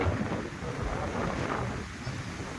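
Strong gusting wind ahead of rain in Vav-Tharad, Gujarat, roaring steadily and loud as a broad rushing buffet against the microphone, with no voices.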